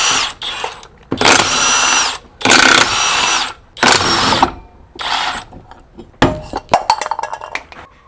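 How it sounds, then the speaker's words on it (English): A power impact tool removes a wheel from a Yamaha G29 golf cart with a 19mm socket, whirring loudly in several short bursts, followed by clinks of metal parts being handled. "Now we remove the wheel with the 19mm socket I mentioned earlier."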